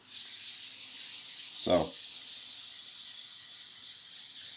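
A steady, hissy rubbing of sandpaper scuff sanding a guitar body, continuous and close, with one brief low thump partway through and a short spoken word.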